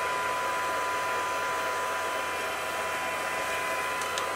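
A handheld blower drying embossing in a craft session, a loud steady whooshing hum that runs without a break throughout, with no talking.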